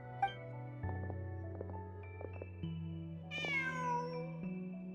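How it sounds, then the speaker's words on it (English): A cat meows in Genshin Impact, one rising, bright call standing out over a steady, layered musical backdrop of sustained tones. "Just a cat."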